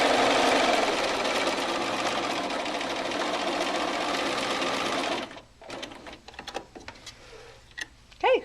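A sewing machine stitches a quilt seam close by in a fast, even run for about five seconds, then stops. Soft handling noises and brief talking follow.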